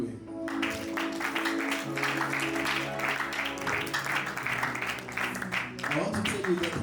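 An audience at a church gathering claps and cheers, a dense continuous wash of applause under a sustained tonal backdrop of music, with voices mixed in throughout.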